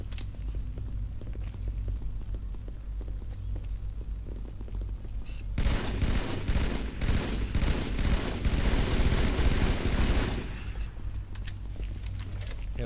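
Dense bursts of gunfire and heavy shotgun blasts from a Halo 2 tournament qualifier match, building to a loud, continuous stretch of shooting in the middle before easing back to quieter game ambience.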